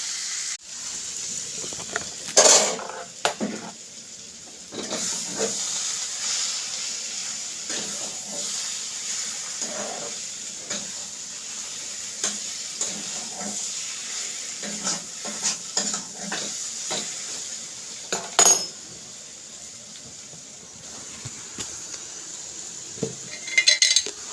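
Spices frying with boiled banana flower and potato in a pan for a Bengali mochar ghonto curry: a soft steady hiss with scattered spatula scrapes and metal clinks, fairly quiet.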